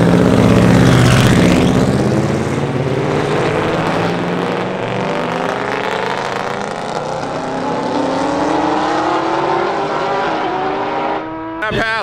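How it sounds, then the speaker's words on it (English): A turbocharged drag race car launches at a Street Car Takeover event, a loud, close engine roar rising in pitch as it accelerates hard and pulls away, fading slightly before a brief sharp burst near the end. "right around the tree is when we'll get to launch the car"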